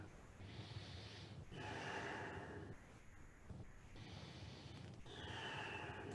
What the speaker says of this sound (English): Breathing long and deep.